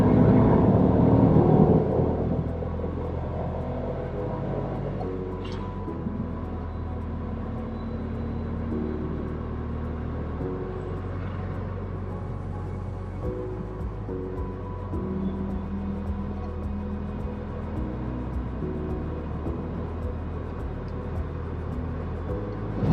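A Honda S660 Turbo car being driven fast on a B road, heard as a steady mid-level engine and road drone with a brief louder burst at the start.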